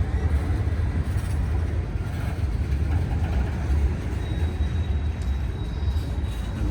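A Norfolk Southern freight train passes at Elm Street in Greensboro, North Carolina, giving a steady low rumble of rolling cars and wheels, close and continuous throughout.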